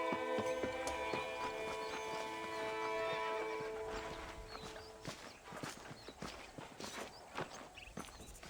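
Horse hooves in the video game Red Dead Redemption: a neigh with steady clip-clop footsteps, then a brisk series of hoof beats on the ground, moderately close against a light outdoor ambience.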